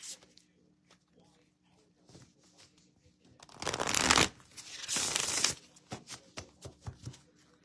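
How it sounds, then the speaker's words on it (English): A deck of tarot cards is riffled and shuffled in two loud bursts, framed by softer card handling and small taps, with occasional quiet talk. "I feel like I need to shuffle these better"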